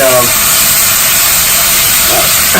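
Ginger and turmeric sizzle in hot oil while a lentil dal of four mixed dals cooks; a loud, steady hiss of frying runs without a break from start to finish.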